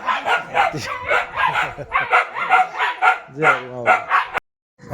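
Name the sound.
hunting dogs barking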